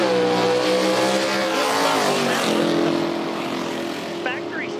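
A 1979 Oldsmobile Delta 88 factory stock race car roars past during drag racing time trials, a loud engine drone with shifting pitch that dominates, a commentator talking over it.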